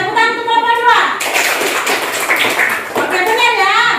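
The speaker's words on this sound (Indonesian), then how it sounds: "tepuk tangan untuk kelompok" A primary school class claps for a student group, a burst of children's applause breaking in between stretches of speech and dying down after a few seconds.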